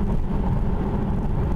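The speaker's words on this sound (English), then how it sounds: "I'm hearing more road noise than what I would normally like to hear" Steady low tire and road roar fills the cabin of a Dodge Challenger R/T cruising at highway speed, a dense, even rumble with no voices.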